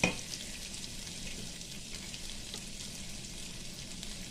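Onion, garlic and ginger fry in a pan for a mutton masala gravy, giving a steady, even sizzle that stays close and moderately quiet, with no voices.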